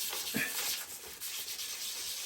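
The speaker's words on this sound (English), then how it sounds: "Use sandpaper. Rub a sandpaper." Sandpaper rubbing on a U-joint of a 1966 Corvair driveshaft, a soft, steady scratchy hiss of continuous strokes, faint and close with no talking.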